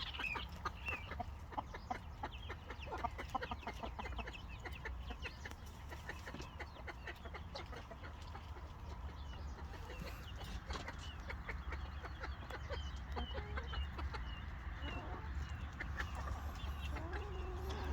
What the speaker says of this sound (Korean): 나이 가장 많은 닭입니다